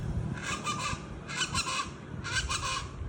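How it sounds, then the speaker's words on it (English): An unidentified bird calls three times from a jogging trail, each honking, goose-like burst lasting about half a second and evenly spaced, moderately loud over a low rumbling outdoor background. "I'm sure it's some type of bird"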